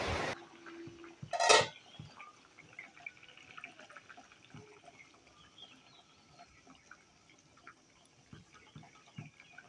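A pot lid clanks down once near the start, then a covered pot of singi fish curry broth simmers quietly with soft, irregular bubbling and faint kitchen clinks.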